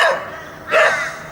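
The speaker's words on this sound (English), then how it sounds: "I've caught this young dog at a walkthrough set." A young wild dog caught in a walkthrough trap set gives two short barks, a quieter yelp first and then a louder, close bark, with no talking.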